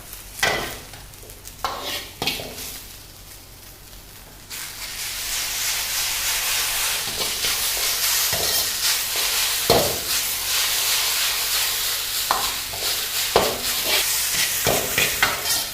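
Noodles and vegetables stir-fry in a hot pan, starting with a few quiet scrapes before a loud, continuous sizzle swells up, punctuated by repeated sharp clanks and scrapes of stirring.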